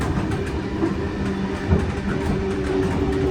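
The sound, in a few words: Sydney Comeng V set train leaving Strathfield station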